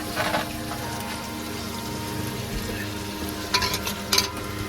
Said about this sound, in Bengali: এবার দিয়ে দেবো মাংস। করে এবার মশলাটা দিয়ে দিই।